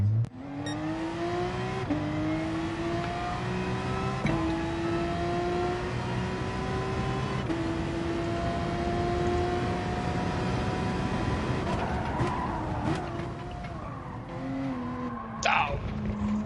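Porsche race car in Gran Turismo Sport, a sustained engine whine rising and dropping through gear changes, with tire squeal near the end.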